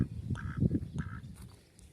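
A couple of nasal duck quacks sound at close range by a lake over a low murmur of background noise.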